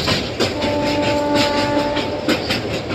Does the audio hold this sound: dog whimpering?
no